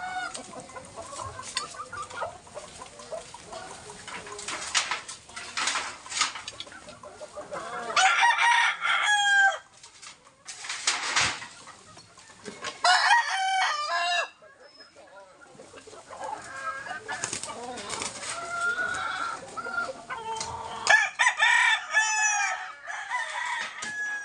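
A gamefowl rooster crows in several long, loud calls, with clucking between them, in a farmyard setting.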